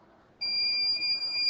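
An electronic buzzer block from a robotics kit switches on abruptly and holds a steady, piercing high-pitched tone, loud and close, with no talk over it.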